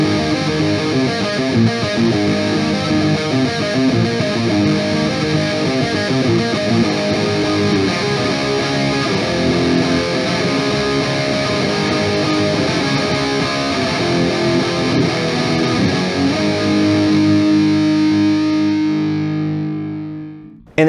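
Metal guitar played through a compact micro pedal rig with heavy distortion, a continuous dense riffing tone with chugging palm-muted rhythm throughout, loud and close, ending with a ringing chord that fades out.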